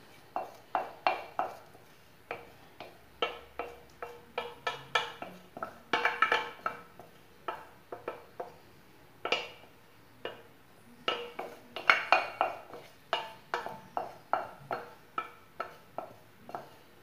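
Rolled oats poured into a breakfast bowl give a long run of close, crisp clinks and ticks, coming in quick clusters with short gaps and no talk.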